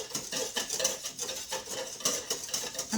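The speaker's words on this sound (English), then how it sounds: "I'm putting this on top of the water. It's not boiling yet, but will be shortly. And I constantly whisk this" A whisk beats hollandaise sauce in a bowl set over a pot of water, making quick, rhythmic metallic scrapes and taps against the bowl, steady and close with no talking.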